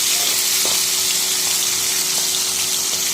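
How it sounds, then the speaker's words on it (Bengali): Pabda fish frying in hot oil in a home kitchen, a continuous close hiss and sizzle with occasional small pops and splutters. "এখন মাছগুলো ভালো করে ভেজে নিচ্ছি"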